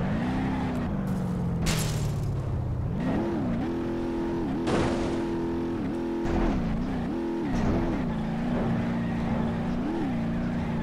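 The Burnside Special's engine in a BeamNG drag race revs hard through repeated upshifts, each rising whine cut by a brief dip before climbing again, with a few sharp clunks and bangs early on.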